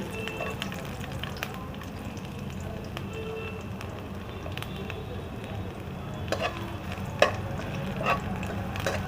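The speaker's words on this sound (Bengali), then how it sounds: "রসুন আর আদাটা একটু ভালো করে ভাজা হয়ে যায়" Garlic and ginger fry in a little leftover oil in a pan, giving a soft, steady sizzle with occasional crackles and light stirring scrapes.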